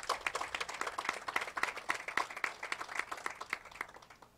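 An audience claps at a governor's public announcement about hospital funding. The clapping is a dense, irregular patter of many hands that stays lively throughout, with no clear cheering heard.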